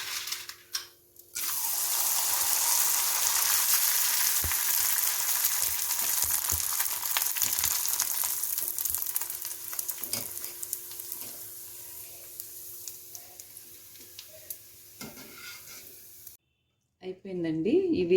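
Onion fryums frying in hot oil over a medium flame, a loud steady sizzle filling most of the stretch, then quickly cut off, with a clatter at the end.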